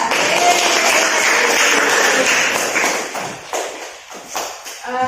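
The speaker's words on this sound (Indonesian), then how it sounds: "tepuk tangan dulu untuk Dita" A classroom of students applauding a classmate during a microteaching English lesson, a steady wash of many hands clapping that thins out and tapers into scattered claps and shuffling.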